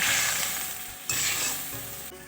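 Fish curry with ground mustard, onion and chilli paste bubbles in a pan while being stirred, a close, loud crackling sizzle broken by brief scraping pauses, with no voices.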